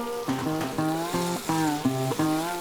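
Fried bread pieces tossed into Manchurian sauce in a hot pan, loud bursts of sizzling and frying in several pulses as the food is stirred, close and without talk.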